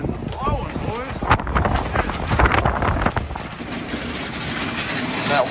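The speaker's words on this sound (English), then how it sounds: "Damn wind's blowing," Wind gusts buffet the microphone outdoors beside a CR80R dirt bike during a cracked exhaust pipe repair, a steady broadband rumble with bursts, while someone talks over it.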